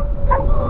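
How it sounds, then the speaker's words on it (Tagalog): A brief, sharp dog bark rings out close by over a steady engine drone, heard while riding a motorcycle through the village of Dinadjawan in Dilasag, Aurora, Philippines. "daming aso"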